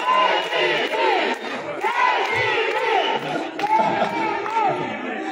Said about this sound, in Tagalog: yung pag ini-intro si Yorme, nagsisigawan, palakpakan.